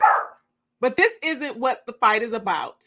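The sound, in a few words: dog barking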